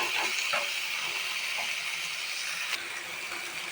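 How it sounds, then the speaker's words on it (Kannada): Chopped tomato and coriander fry in a hot pan with a steady, loud sizzle and hiss, broken by a few faint clinks from stirring. "ಟೊಮೊಟೊ ಮತ್ತು ಕೊತ್ತಂಬರಿನ ಹಾಕ್ಕೊಂಡು ಫ್ರೈ ಮಾಡ್ಕೊತಿದ್ದೀನಿ"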